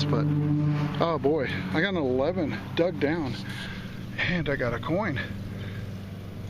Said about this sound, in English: You'll have to excuse the lawnmower noise.